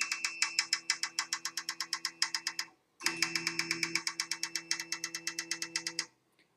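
A Printrbot 3D printer's stepper-driven axis travels to the far end of its range, giving a fast, even train of buzzy mechanical pulses with a steady motor hum, a brief pause near the three-second mark, then the same rhythm resuming.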